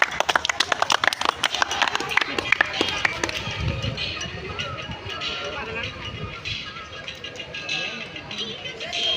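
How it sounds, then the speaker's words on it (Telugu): A classroom of high school students gives a classmate a round of applause, a burst of loud, rapid clapping that thins out into scattered claps and murmuring chatter, with voices talking over it. "Give him clap."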